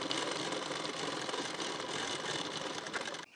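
A sewing machine runs continuously, stitching a hook strip onto a blouse, a dense steady mechanical whir that stops abruptly at the very end.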